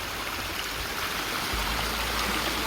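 A small waterfall splashing close by among orchids, a dense, steady rush of falling water that fills the whole short stretch without pause.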